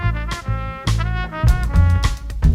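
A band's musical looping cue rings out as a short band figure of a few punchy, tonal hits with strong low end, close and loud, with no talking.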